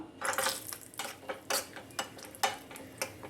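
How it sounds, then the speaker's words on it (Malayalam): Nuts dropped into ghee in a pan, heard as a string of small, sharp clinks and taps about every half second, with faint sizzling between them, close and quiet. "ഒരല്പം നെയ്യ് പാനിലേക്ക് ഒഴിച്ചിട്ടുണ്ട് നമുക്ക് നട്ട്സ് ഇട്ട് കൊടുക്കാം"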